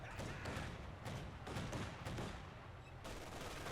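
Company of Heroes 2 machine gun fire rattles in sustained bursts against infantry, mixed with thuds and battle noise, steady and fairly loud throughout.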